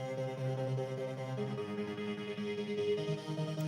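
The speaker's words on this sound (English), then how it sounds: "Which has a real nice sort of trance sort of sound to it." A trance-style synth patch built in FL Studio plays sustained chord tones that shift pitch partway through, a smooth, fairly quiet pad-like sound with nothing else heard.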